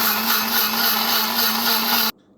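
A mixer grinder whirs loudly and evenly as it blends a ground spice mix of onion, green chili and curry leaves with buttermilk or curd, running about two seconds before stopping sharply.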